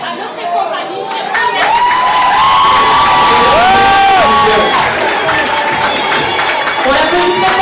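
A large crowd at a beauty pageant evening cheers and applauds loudly, with whoops and shouts rising over steady clapping that holds for several seconds.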